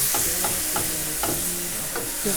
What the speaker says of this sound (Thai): จากนั้นเราก็จะเอาไข่ลงไปผัด คนให้เข้ากันนะคะ